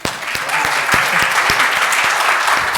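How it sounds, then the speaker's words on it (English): Applause from an audience at a spring piano recital, dense clapping that rises quickly and stays steady and fairly loud, with a few sharper individual claps standing out near the front. "Another round of applause."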